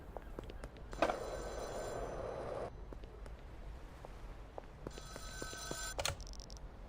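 A payphone rings in the video game Schedule 1, two bursts of bright metallic bell trilling separated by a quiet pause, heard alone over a low background hum.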